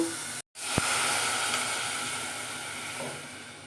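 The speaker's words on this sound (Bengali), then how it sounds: "পেঁয়াজগুলো ভালো করে একটু ঘিয়েতে ভেজে নেব" Sliced onions frying in ghee: a steady, close hiss of sizzling that runs almost the whole time, broken by a brief silent gap near the start.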